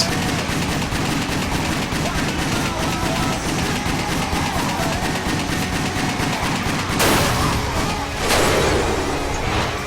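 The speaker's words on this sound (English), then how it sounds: "you can just lay in as fast as your pistols will let you shoot" Rapid pistol gunfire from the video game WET, a dense, loud stream of shots fired as fast as possible for the whole stretch, with louder bursts of impact near the end.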